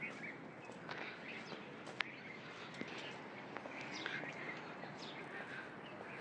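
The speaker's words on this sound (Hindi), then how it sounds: "ये जो परिंदों की चहचहाहट" Faint birds chirping in the distance, scattered short calls over a quiet outdoor background with occasional light rustling.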